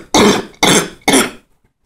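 A person coughing after smoking cannabis: three harsh, loud coughs in quick succession, each about a third of a second, close up, then silence.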